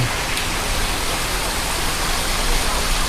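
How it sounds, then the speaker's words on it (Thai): Heavy rain pours down at a leafy rainforest cafe, making a dense, continuous hiss of drops on surfaces that stays loud and steady from start to end. "แต่วันนี้ ฝนมันจะตกครับดูนะครับตกมาเลยครึ้ม"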